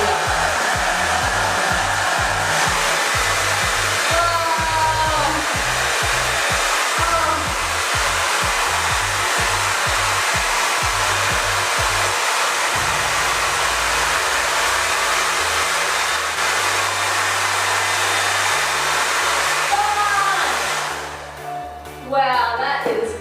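A hair dryer roars steadily and loudly, drying thermal colour-changing unicorn hair dye, its blowing hum continuous throughout with faint shifting tones underneath before cutting off near the end.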